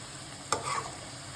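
Chicken pieces for pickle fry in hot oil until orange, a soft continuous sizzle with one sharp clink or scrape of a utensil against the pan partway through, no voices.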